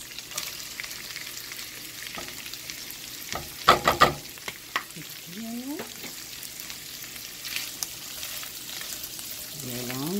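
Shrimp and onion sizzling in a frying pan, a steady close sizzle broken by sharp bursts of stirring and clattering utensil strokes against the pan, with no voices.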